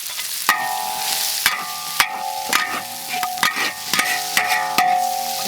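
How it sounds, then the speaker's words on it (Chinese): Ingredients for kung pao chicken, diced chicken breast with chilli bean paste and aromatics, are stir-fried in a wok: loud sizzling under repeated metallic clangs of the spatula against the pan, close up and without speech. "稍微炒一下啊，"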